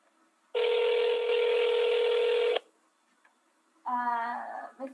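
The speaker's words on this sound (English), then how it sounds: "Can you hear the phone right now?" Telephone line tones over a call: a long steady electronic tone of about two seconds, a short gap, then a second warbling tone starting near the end, loud and clear with no talk.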